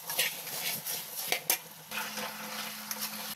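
A spoon mixing puffed rice bhel in a bowl, a soft continuous rustle and scrape with a few light clinks, no talking.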